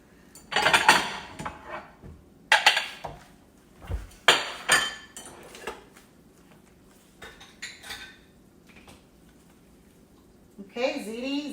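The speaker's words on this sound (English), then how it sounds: "Let me go ahead and get my serving dishes." Serving dishes clatter and clink in a home kitchen, loud close bursts of ceramic and cutlery knocks spread irregularly across the stretch, with a drawer-like slide and some rinsing water near the end.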